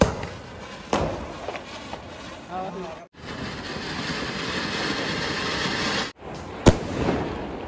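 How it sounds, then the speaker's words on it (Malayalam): A Diwali ground spinner firework (kudachakram), lit by a rocket, gives off long roaring, hissing bursts of sparks broken by sharp pops and a brief gap, loud and close, with voices in the background. "നമ്മുടെ കുടച്ചക്കറം കത്തിക്കുന്ന പുതിയ മെത്തേഡ്."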